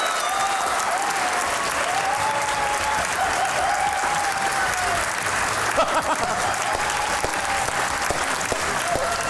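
A studio audience at a TV comedy show applauds steadily as guests walk on, a dense, even wash of clapping with a few whistles rising above it, sustained for the full stretch.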